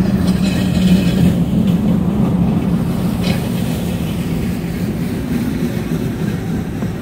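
Train rumbling into platform 3 at a Korean station near Jeongdongjin, a steady low rolling roar with faint clatter, moderately loud and continuous, no voices over it.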